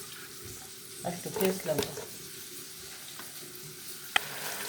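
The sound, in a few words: oil sizzling in a pan for cucumber curry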